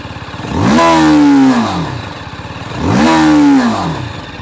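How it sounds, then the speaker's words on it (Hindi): A TVS Apache RTR 310 motorcycle engine revved twice in quick bursts from idle, each rev climbing sharply and dropping back to a loud, close burbling idle between them. "अभी इंजन का जो है हम साउंड सुनेंगे"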